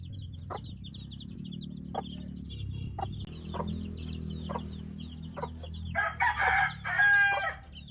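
Hens cluck softly around a mother hen and her chicks in a backyard coop, with a few short, nearby calls in between. Near the end a rooster lets out a loud, close crow.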